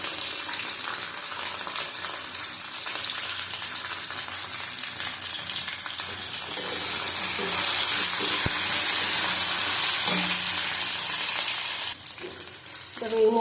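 Vegetables with panch phoron, turmeric and salt fry in a pan, a steady crackling sizzle that grows louder and brighter midway, with occasional stirring scrapes, then briefly dips near the end.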